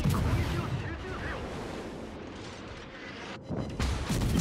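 Warship guns booming in a World of Warships naval battle, with heavy muffled rumbling shots and dense low thunder, several blasts overlapping throughout amid ongoing engagement noise.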